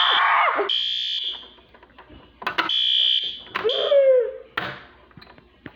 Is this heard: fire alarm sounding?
yes